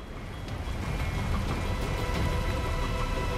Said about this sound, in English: Keep the rain out of our eyes, right?